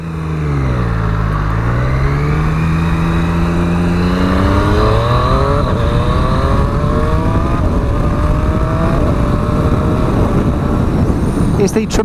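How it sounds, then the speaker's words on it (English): A 2017 Triumph Street Triple RS motorcycle accelerates hard through quick-shifter gear changes, each shift marked by a brief dip before the revs climb again. Wind roar builds underneath the engine. "It's the tremendous Triumph quick shifter that comes as standard on the RS model"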